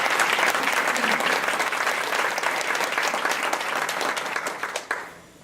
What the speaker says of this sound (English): So let's give a warm round of applause for Dr. Roberts for joining us today.